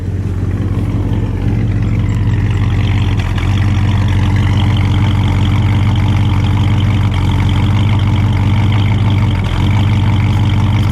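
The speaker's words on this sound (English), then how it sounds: "I want to get just that noise in the exhaust." A loud, steady low rumble of a 1960 DeSoto FireFlite V8 engine idling through its exhaust, continuous and unchanging, heard up close with no voices.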